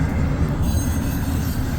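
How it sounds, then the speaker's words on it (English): A westbound Norfolk Southern intermodal freight train with three lead locomotives and no rear units rolls past, its rear cars close by in a steady loud rumble of wheels and rail noise with faint squealing. "here comes the end. No DPUs on it, just those 3 lead locomotives."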